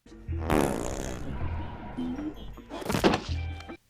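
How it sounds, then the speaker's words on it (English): Fart sound effect from the animated film Despicable Me: a low, blunt, thumping burst near the start and a second one later, set among cartoon music and effects. "Fart joke!"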